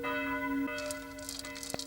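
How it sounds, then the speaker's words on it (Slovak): Church bells ring in the village of Strážov during its 1993 harvest festival. Sustained, ringing tones hum on before another strike lands, followed by lighter, brighter clangs further off. "V našom kostole sa zvoní raz do roka"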